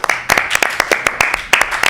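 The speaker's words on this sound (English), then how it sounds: "If we can get a round of applause for him." An audience claps for the house band at a Muscatine filmmakers event. The clapping is sparse and uneven, with distinct individual claps rather than a dense roar.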